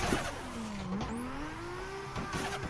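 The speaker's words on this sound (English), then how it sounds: "I'm just banging limiter the whole time" A drift car at Ozark Raceway holds its engine on the rev limiter through a slide, a loud, steady high-pitched drone with a pitch that dips and climbs again, plus a brief rising whine.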